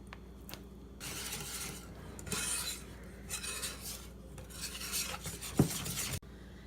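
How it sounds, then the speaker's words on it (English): Cornstarch sifted through a mesh sieve for Japanese cheesecake, a soft continuous rasping and scratching in uneven waves with faint clinks, close and quiet, ending in a sharp tap. "you're gonna wanna sift it because once again, everything needs to be super, super smooth"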